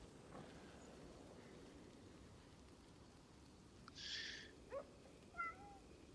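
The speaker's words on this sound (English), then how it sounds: "the kitties in the game meow a lot" Cats meow in the video game Crimson Desert, with one clear meow partway through and a couple of shorter chirps after it, faint over a steady low rumble of background ambience, with no talking.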